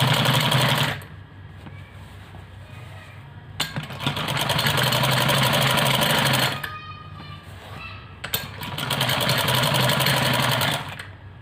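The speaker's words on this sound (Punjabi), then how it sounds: "ਹੁਣ ਆਪਾਂ ਇਹ ਕਰਦੇ ਹਾਂ ਸਿਆਉਣ ਨੂੰ" A domestic sewing machine stitches a seam on a ladies' salwar in two long, steady whirring runs, each lasting a few seconds and separated by pauses and small handling noises, close and fairly loud.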